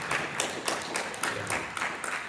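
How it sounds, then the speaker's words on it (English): Audience applause at a live podcast stage event, steady moderate clapping from a crowd, somewhat distant, continuing for a couple of seconds. "So give her a big round of applause for that."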